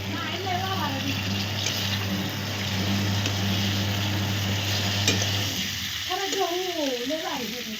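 Tempering spices sizzle in hot oil for green beans with a steady hiss, while a voice talks over much of it and a low hum runs beneath.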